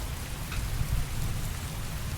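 Heavy rain pouring steadily in the video game Heavy Rain, a dense constant hiss of downpour with low rumbling underneath, fairly loud and with no voices.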